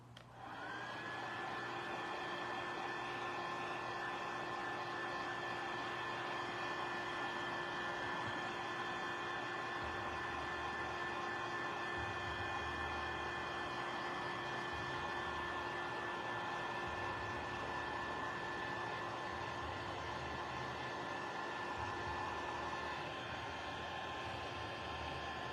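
A handheld dryer blows steadily and loudly on a layered Valentine craft project, a continuous close whooshing roar with a sustained whine that holds without pause throughout.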